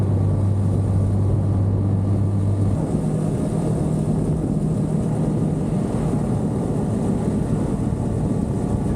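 Motorcycle engine and road wind from a ride through the Lviv countryside with a Kawasaki Z900 and a Tekken 250, a steady loud rumble with no distinct approach standing out.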